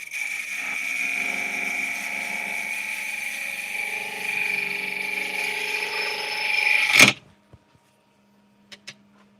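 A power drill whines steadily as it bores a hole in cracked wood, running for about seven seconds before stopping abruptly, followed by a few faint clicks and knocks.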